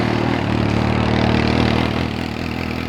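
A Suzuki GSR 750 motorcycle with a new exhaust idles cold outdoors, a loud, close, steady engine rumble with an even burbling pulse throughout.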